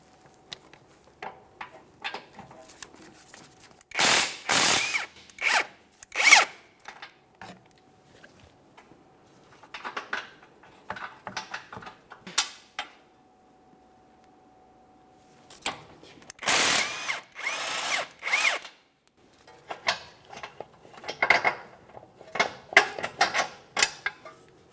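Power tool ratcheting out 18mm control arm bolts on a 2017-2024 GMC Acadia front lower control arm, heard as several loud bursts of whirring and clicking, separated by quieter clanks and pauses.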